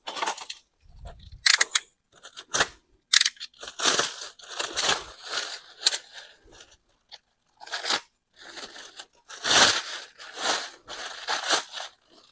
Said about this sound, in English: I'm just unwrapping the light beam. Let me use a cutter to cut it off.